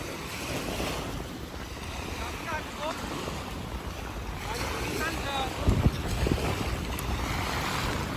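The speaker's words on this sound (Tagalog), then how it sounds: "Maalon, medyo maalon ng konti." Choppy sea waves at a beach in the rainy season wash and slap continuously under strong wind buffeting the microphone, with a few louder splashes near the end.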